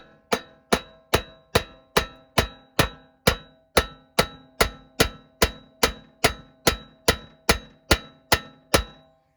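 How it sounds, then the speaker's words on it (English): A steel hammer strikes a car's suspension spindle about twenty times in a steady, even rhythm, each hit a loud, close, ringing metallic clang that fades before the next, with no talking. "Now I'm going to smack the spindle right here with a hammer."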